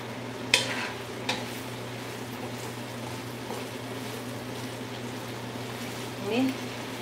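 Pork rinds (chicharrones) frying in a pan and being stirred, a steady low sizzle with a couple of sharp scrape or clink accents from the stirring, close and fairly quiet.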